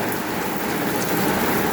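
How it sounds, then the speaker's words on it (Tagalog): Dense, loud rain pours steadily with a constant broadband hiss, close and unbroken, no voices. "Lakas ng ulan"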